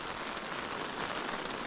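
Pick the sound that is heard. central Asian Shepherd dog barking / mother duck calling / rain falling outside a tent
rain falling outside a tent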